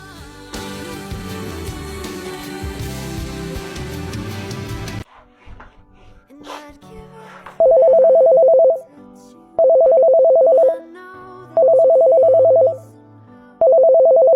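A phone rings with an incoming call: a loud electronic ringtone repeats in four evenly spaced bursts after a few seconds of music and clattering.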